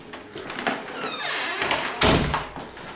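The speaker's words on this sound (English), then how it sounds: "And then we shut the door." A door is pushed shut indoors, producing a short shuffle followed by a firm thud near the end. Faint room noise sits underneath, with no speech.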